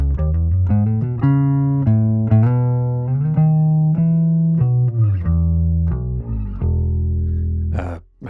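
A 50-year-old Rickenbacker bass guitar plays a melodic line of sustained, warm notes that shift in pitch, close and clear, with a few brighter plucks near the end and no voices.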